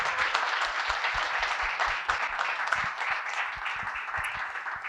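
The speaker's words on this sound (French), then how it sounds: "On peut les applaudir une deuxième fois." Audience applause for panelists at a podcast event on restaurant industry challenges, a dense, steady patter of many hands clapping, moderately loud and sustained throughout.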